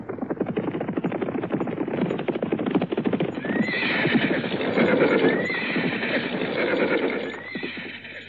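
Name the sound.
group of horses with riders approaching, hooves clip-clopping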